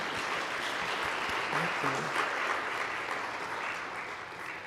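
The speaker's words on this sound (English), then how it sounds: "We should clap again" A congregation at a church service claps together in steady, even applause, a dense wash of hands filling the room at moderate distance, with a brief spoken word over it.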